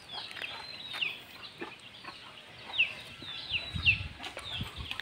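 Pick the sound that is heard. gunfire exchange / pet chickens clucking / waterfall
pet chickens clucking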